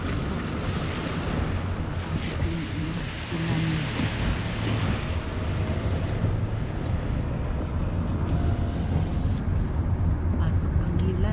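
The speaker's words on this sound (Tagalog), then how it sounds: "sinadala ng 150 km/h yung hangin" Loud, unbroken roar of 150 km/h wind gusting against the microphone in New Zealand, with churning surf-like noise throughout and a voice faintly underneath.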